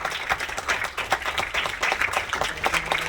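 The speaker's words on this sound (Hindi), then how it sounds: "तालियां बजती रहनी चाहिए।" An audience at an all-India artists' award function applauds, dense steady clapping from many hands that fills the whole moment without a break.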